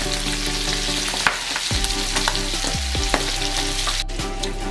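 Salmon fillet pan-searing in brown butter gives a steady, dense sizzle throughout, with a few sharper spits and pops rising from the crackle. It is close and fairly loud, with no voices.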